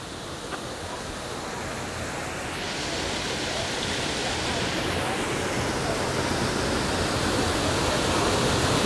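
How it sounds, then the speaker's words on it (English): Water pours out both sides of a grist mill building in a steady, loud, broadband rush, with the roar swelling and staying dense and continuous from about the third second on. "Water is coming out both sides of the building."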